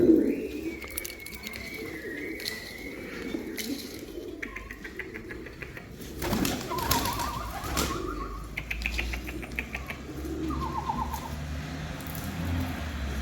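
Pigeons coo softly amid a busy loft, with wings flapping and scattered bird calls, and voices talking intermittently in the background.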